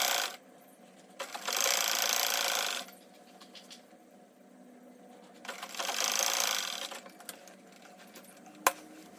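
A sewing machine stitches the hem of a circle flare dress in two steady runs of about two seconds each, separated by quieter mechanical clicking and a single sharp tap near the end.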